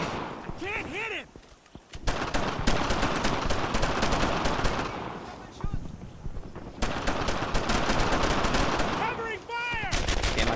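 Heavy gunfire from a World War II firefight in the Normandy shooter Brothers in Arms: continuous dense rifle and machine-gun bursts, loud and close, with brief shouted voices at the start and end.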